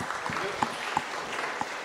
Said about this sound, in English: Please give a round of applause to welcome Popcorn.